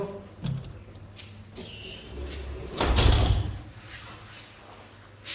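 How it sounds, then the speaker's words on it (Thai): Indoors in a home, a door slides and bumps shut. Softer rattles come first, then a louder thud near the middle, over a quiet room. "ปิดประตู"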